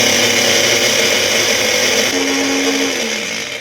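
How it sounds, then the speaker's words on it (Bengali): A mixer grinder grinding poppy seeds runs with a loud, steady motor whine, then winds down in pitch and fades near the end. "তার আগে আমি পোস্তটা বেটে নিই।"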